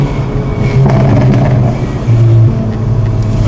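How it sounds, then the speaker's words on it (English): Hyundai i30N DCT facelift with its exhaust idling and revving, a loud close low rumble with rough bubbling texture and a few brief cracks, no talking. "I just want you guys to hear this car when it bubbles, cracks, pops, bangs, everything."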